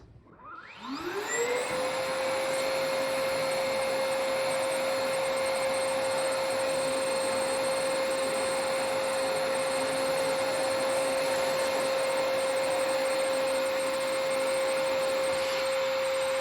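A Perfect C105B commercial battery canister vacuum cleaner starts up, its motor whining up in pitch within a second, then runs at a steady, even hum and whir for the rest.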